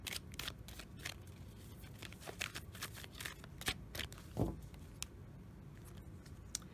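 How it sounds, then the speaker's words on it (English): Oracle cards from a metaphysical, chakra and crystal themed deck shuffled by hand, giving a quiet run of papery riffles and soft slaps at an irregular rhythm, close and faint with no talking. "So let's shuffle and draw a card"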